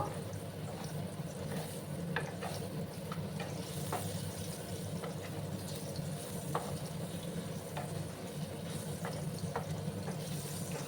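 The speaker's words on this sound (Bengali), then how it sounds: "এবার আমি প্রথমে আলুগুলোকে একটু লাল করে ভেজে নিচ্ছি।" Potatoes browning in a pan of oil with a little salt over a low gas flame give a steady, close sizzle with scattered small crackles and pops throughout, and no voices.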